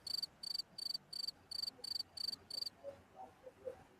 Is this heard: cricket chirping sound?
yes